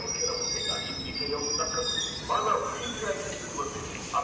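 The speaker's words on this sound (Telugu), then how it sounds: "ప్లాట్ఫామ్ నెంబర్ 1 మీదకి వచ్చేసరికి రాయగఢ్ ఎక్స్ప్రెస్ అయితే రాబోతుంది" The Rayagada Express rolls into platform 1 at Nidadavolu Junction with a steady rumble of wheels on rail, brief metallic squeals and clanks, and a continuous station din around it.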